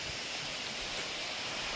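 Cheeku Dhara waterfall at a Shiva temple in Andhra Pradesh pours a steady, soft rushing wash of falling water, faint and continuous with no other sounds.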